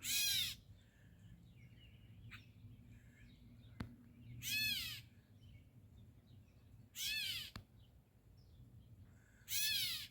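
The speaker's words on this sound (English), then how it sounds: "It's called a gray cat mimic bird. And it can mimic other birds." A gray catbird gives four separate mewing calls, each a quick cat-like descending whine, spaced a few seconds apart against a quiet outdoor background.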